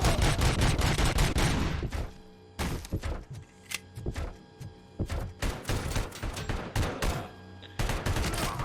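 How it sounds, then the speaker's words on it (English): Rapid bursts of gunfire from the video game Robocop Rogue City, a dense volley at first, then scattered loud shots and thuds in irregular clusters. "the gunshots and voices are very, very clear"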